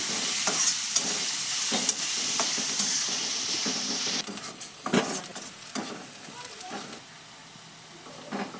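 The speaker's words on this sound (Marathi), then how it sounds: "आता पूर्ण परतून घ्यायचा कांदा लाल होईपर्यंत" Chopped onion sautéing in a pan until reddish, a steady broadband sizzle with repeated scraping stir strokes, loud and close at first, then quieter with intermittent clinks and stirs.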